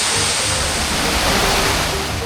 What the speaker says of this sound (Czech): Vydali jsme se dokonce i do přírody podívat se na takový malej vodopádek.